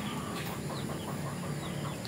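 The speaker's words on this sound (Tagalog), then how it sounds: "Ito guys yung mga manok ng kasama ko dito" Hybrid chickens in a backyard cluck softly and steadily, a faint chatter of several birds under a constant low outdoor hiss.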